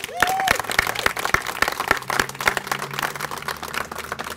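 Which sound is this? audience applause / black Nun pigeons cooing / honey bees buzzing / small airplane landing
audience applause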